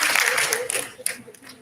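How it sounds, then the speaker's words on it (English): A crowd applauds in a dense wash of clapping at a youth ideathon awards ceremony, loud at first and thinning toward the end, with murmuring voices mixed in. "A round of applause."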